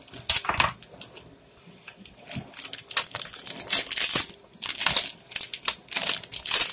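Crinkly plastic wrapper of Every Burger sandwich cookies with Japanese writing being torn open, a close, busy run of sharp crackles and crumples with brief pauses.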